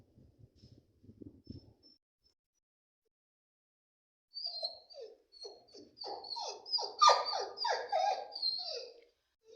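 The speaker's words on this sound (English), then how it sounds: "He's just barking." A dog barks in a rapid, yelping series, fairly close and insistent, after a few soft low thuds and a quiet pause.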